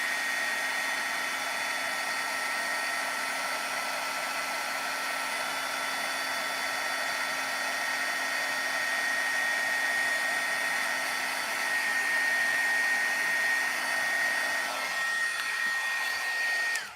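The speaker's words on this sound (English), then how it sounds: "that is going to be the last time I use the heat gun for the night." A heat gun melting vellum at a scrapbooking table blows with a steady, close whirring hiss and a constant high whine that holds unbroken and then cuts off at the end.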